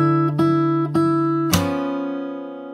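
Fingerstyle acoustic guitar plays a short phrase from the solo: a few plucked chords ringing together, then a sharp percussive slap on the strings that lets the notes sustain and fade, close and clear with no voices.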